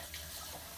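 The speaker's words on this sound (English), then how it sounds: "walk this over to your sink, and then you're going to want to rinse this out with nice fresh water" Steady rush of fresh tap water running into a sink while a water filter from a Kings Water Systems Aqua Pure unit is rinsed, a constant close hiss without pauses.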